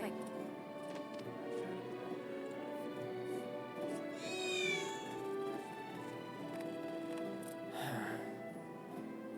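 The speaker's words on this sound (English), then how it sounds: "So one of Betty's cats is actually right by the entrance to Seventh Heaven," A cat meows twice in Final Fantasy VII Remake, a near, high wavering mew and a later shorter call, set over a steady game background hum and music.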